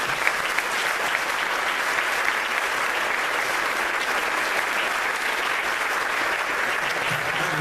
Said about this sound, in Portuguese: Vamos aplaudir o Senhor mesmo.